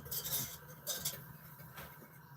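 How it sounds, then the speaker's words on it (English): Strawberry cream being stirred in a bowl, with soft clinks of a utensil against the dish and light scraping in an irregular rhythm, fairly quiet and close. "I'm stirring"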